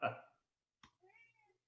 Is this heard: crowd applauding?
no